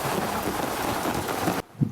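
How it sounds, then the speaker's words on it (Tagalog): Heavy rain pours down during a hike near a waterfall and cave in Sai Kung, a loud dense hiss that stops abruptly near the end, leaving a quiet moment with a faint bump. "Lakas ng ulan."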